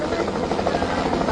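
A helicopter flies overhead during flooding in Rasuwa, Nepal, its loud, close rotor thrum filling the short moment without a break, with a voice faintly audible beneath it.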